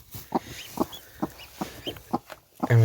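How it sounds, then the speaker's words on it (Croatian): A naked neck hen sits in her nest, giving a series of soft, evenly spaced clucks at close range, ending in a louder, more sustained cluck. "Danas sam primijetio da ova golovrata kokoška leži u gnezdu"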